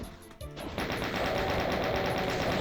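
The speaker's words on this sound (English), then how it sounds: "Okay, Gatling gun." Rapid, continuous chaingun fire in DOOM (1993), a fast even rattle of shots that starts after a brief lead-in and keeps going loud to the end.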